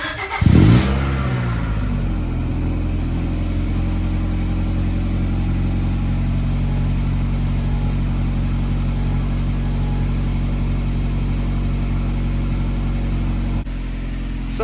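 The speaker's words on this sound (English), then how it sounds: "I'm just gonna let the car warm up for maybe like 5 minutes or so before I head out to the car wash" A Honda Prelude starts up with a brief rev, then settles into a steady, low, even idle while warming up, loud and close for the whole stretch with no talking.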